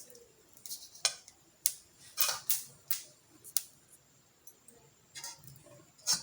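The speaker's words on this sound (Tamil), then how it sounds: "எள்ளு பொரிய ஆரம்பிச்சு இப்போ எடுத்துடலாம்." Sesame seeds popping as they dry-roast in a pan for idli podi, a scattered series of faint crisp ticks and crackles at uneven intervals, with no talking.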